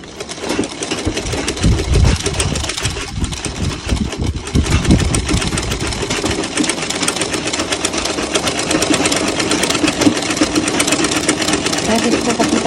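A treadle sewing machine runs steadily for the whole stretch, a continuous mechanical whir with rhythmic clatter, fairly loud and close, while someone talks over it.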